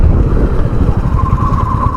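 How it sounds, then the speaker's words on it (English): A 2021 Royal Enfield Meteor 350 motorcycle engine drones steadily with road and wind noise, a higher mechanical whine rising partway through as the bike slows under hard braking. "I'll go for hard braking now."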